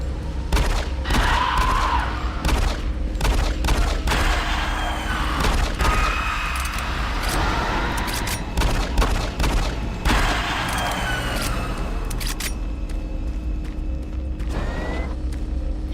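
Pistol fire in Doom 3, with repeated sharp, loud shots spaced irregularly through a dense, rumbling industrial background hum, close and dominant with no voices.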